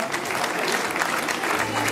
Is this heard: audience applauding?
yes